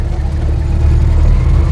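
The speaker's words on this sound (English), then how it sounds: "To do a hill start, you hold the handlebars down, raise the revs, and as the clutch engages," A vintage motorcycle with a centrifugal clutch revs up for a hill start on a valley road, its engine droning low and steady and growing slightly louder and fuller as the revs rise.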